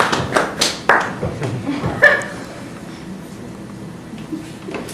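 Scattered applause from a comedy show audience, a handful of loud claps and a brief chuckle early on, then fading into quieter room noise with faint murmuring.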